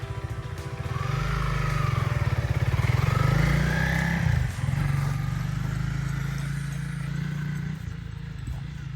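A dual-sport road-and-dirt motorcycle engine runs nearby with a steady, throbbing low drone, dipping briefly midway before carrying on at an even pace.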